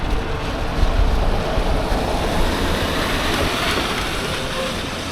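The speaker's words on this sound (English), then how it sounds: "Check out the creek." Creek water rushing beside the Santiago Creek Trail during a wet eBike commute, a steady broadband wash with some wind noise on the microphone, continuous and fairly loud with no voices.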